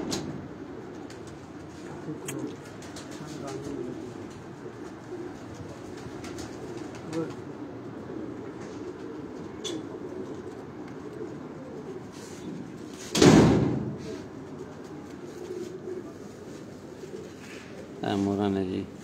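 Pigeons coo softly and repeatedly close by while people talk throughout, with a brief loud thump partway through.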